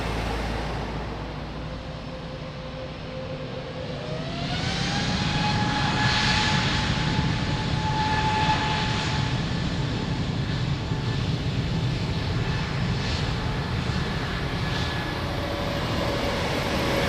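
Jet airliner taking off from runway 02 at Lisbon Airport, a steady loud engine roar that swells after a few seconds with a rising whine, then holds strong and continuous.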